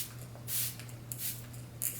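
Three short hissing spritzes of Fix Plus setting spray, close by and fairly soft, over a low steady hum.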